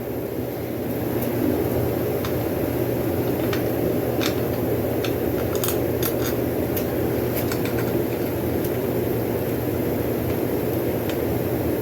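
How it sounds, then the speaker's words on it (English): A propane heater runs right beside the recorder in a garage workshop, a steady, moderately loud broadband hiss and roar with faint intermittent ticking clicks over it. "I got a propane heater."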